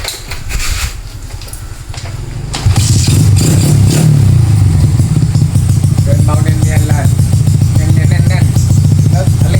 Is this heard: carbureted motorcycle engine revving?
yes